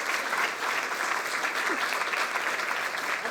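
Audience applause welcoming speaker Esther Stanhope at a networking talk, a steady, even wash of many hands clapping throughout, fairly loud and filling the room.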